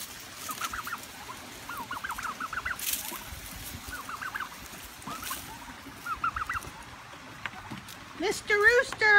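Turkeys and a rooster on a farm give a run of repeated gobbling and clucking calls, moderately close. Farm background noise fills the gaps, and a louder, harsher call breaks in near the end.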